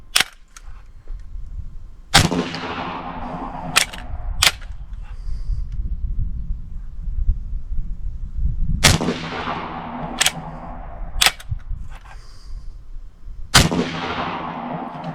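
Shots from a .45 caliber pump-action airgun ring out loud and close, heavy booming reports each trailing a decaying echo, mixed with sharper cracks, spread irregularly over several seconds.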